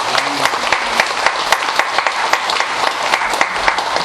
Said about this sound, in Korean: 우리 성가대에서 박수 한 번 더 크게 한번